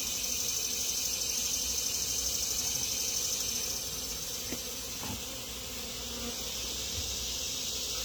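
Bees at open hive frames while a colony is moved along with its queen, a steady dense drone of many insects that stays fairly loud, easing slightly in the second half.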